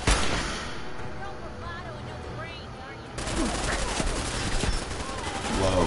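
Gunfire from the Ghoul Slayer's hunting rifle in a video game cracks out in repeated sharp shots over a busy, noisy background, growing denser and louder toward the end, with a voice talking now and then.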